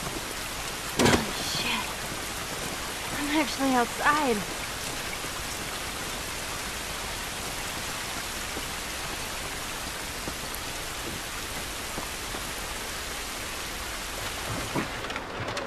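Steady heavy rain pours outdoors in the video game The Last of Us, a constant hiss of drops with a brief rumble of thunder, while characters speak a few lines early on.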